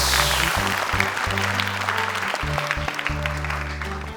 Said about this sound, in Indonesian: Boleh tepuk tangan sekali lagi untuk Afiko Malina